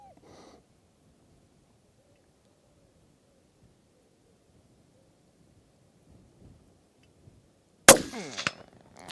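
A single sharp crack from an ATA Turqua thumbhole laminate air rifle firing at a target on a hot day outdoors, loud and abrupt after near silence, with a brief ringing tail.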